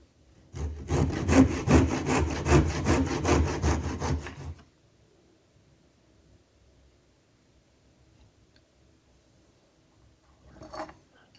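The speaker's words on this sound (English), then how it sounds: "So using a tenon saw and a bencher, cut all 5 pieces to the same length." A tenon saw cutting oak pieces to length on a bench, a quick run of steady rhythmic back-and-forth strokes lasting about four seconds, then near silence with one faint scrape near the end.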